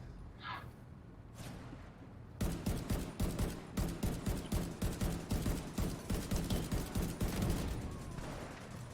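Rapid, steady rifle fire from soldiers in a video game, a long run of evenly spaced loud shots close up after a quieter opening, with no talking.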